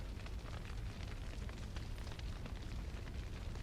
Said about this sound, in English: Nice looking fire.